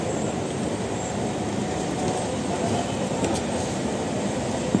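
The Dhauli Express running along the rails produces a steady, loud rumble from inside the carriage, with continuous broadband roar and faint rattling, no talking.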